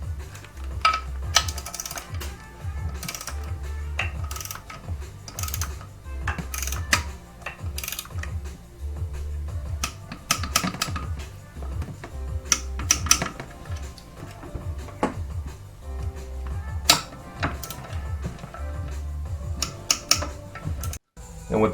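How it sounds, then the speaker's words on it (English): An inch-pound torque wrench set to 240 inch-pounds tightening M8 clutch bolts during a clutch install on a 2013 Subaru STi, with scattered sharp clicks and ratcheting over a low background hum and occasional soft voices. "So I've got my inch torque wrench set to 240 inch-pounds."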